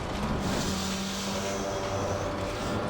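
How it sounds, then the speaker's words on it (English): A faster race car approaches on the Silverstone circuit in Assetto Corsa Competizione during a multi-class race, its engine a steady broad drone with a tone that rises gradually, close and continuous, no speech. "Faster car is approaching."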